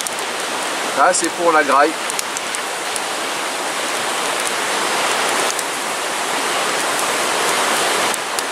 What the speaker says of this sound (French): Je ne sais pas si vous entendez le bruit de la rivière